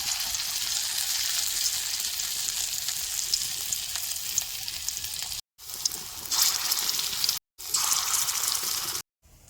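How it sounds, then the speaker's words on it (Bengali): Cabbage kofta balls fry in hot oil in a rural village kitchen, giving a steady, close, loud sizzle that cuts out briefly three times near the end before resuming. "বাকি কোপ্তাগুলোরও আমি একইভাবে বাইজে নেব"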